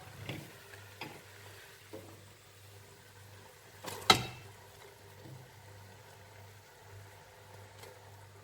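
Chopped okra goes into a pot of Nigerian okro soup with one soft splashing thud, set against a faint, quiet simmer and a few small clicks from the pot.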